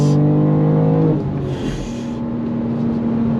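A 2024 BMW M2 with a 6-speed manual pulls hard under throttle, its engine revving high and loud. After about a second the tone drops with a gear change, then it settles into a steady, strong pull.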